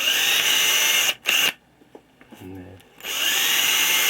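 A power drill bores holes through a model aircraft fuselage, two bursts of steady whine near and loud, the first about a second long and the second after a short pause, with a brief spoken word in between and drilling resuming at the end.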